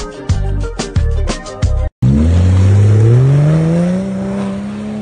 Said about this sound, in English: This is the Nissan Patrol, the greatest automobile 4x4 ever made.